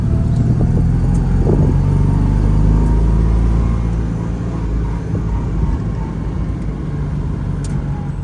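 A restored 1985 Citroen 2CV 6 Club engine idles at very low revs, a steady close rumble with a low throbbing beat that holds even throughout, no talking over it.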